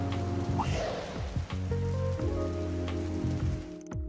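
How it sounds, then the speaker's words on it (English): Heavy rain falling in the Trails through Daybreak video game, a steady continuous wash of downpour with game music tones layered over it throughout, no talking. "the rain was coming down even more heavily"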